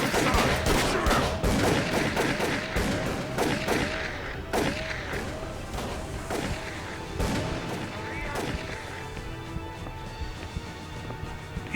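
Repeated gunshots crack out in the Call of Cthulhu video game, a volley of sharp bursts that is dense at first and then thins to scattered single shots, with game voices and effects underneath.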